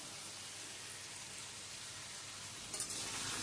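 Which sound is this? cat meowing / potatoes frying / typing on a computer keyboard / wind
potatoes frying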